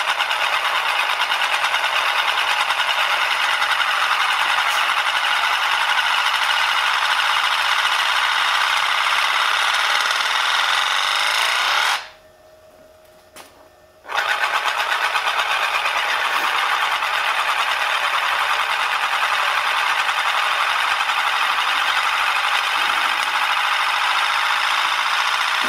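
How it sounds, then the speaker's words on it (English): A titanium Euler's disk, a spinning toy a little over half an inch thick, whirs steadily and loudly as it spins down, with a brief near-silent gap midway before the continuous whir resumes. "It's called an Euler's disc after Leonhard Euler, 1800 era physicist."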